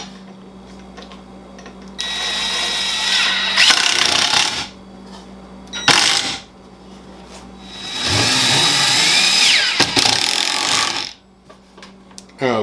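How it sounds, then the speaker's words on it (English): A power drill driving screws into a brad-nailed, glued wooden workbench, with several loud whirring bursts of a few seconds each, separated by quieter pauses and a low background hum. "I'm going to throw some screws in it to strengthen it."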